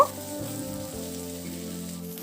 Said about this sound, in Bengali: এবার সবজিগুলোকে দিয়ে একটু নাড়াচাড়া করে নেব।